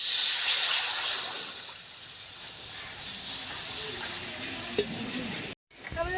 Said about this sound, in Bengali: তার মধ্যে পরিমাণ মতন জল দিয়ে দেবো।